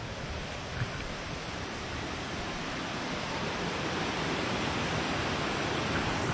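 A fast-flowing mountain river fed by fresh waterfall and spring water in Arunachal Pradesh roars as a steady, dense rush, loud and unbroken throughout with no voices.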